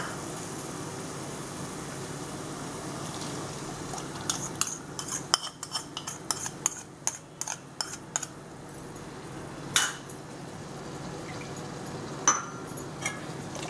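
Cashew paste is added to egg butter masala gravy and stirred, with a steady low simmer under a run of quick spoon-on-pan clinks and scrapes in the middle, then a few isolated taps.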